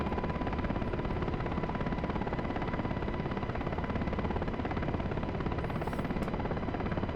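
A UH-60L Black Hawk helicopter in flight in the DCS World simulator, a loud, steady, close rotor thrum with rapid even blade chop and constant engine whine throughout.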